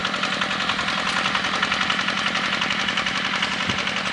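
A walk-behind tractor engine with a harrow adapter in a straw-covered field runs at a steady, throbbing chug, continuous and fairly close, with no one speaking.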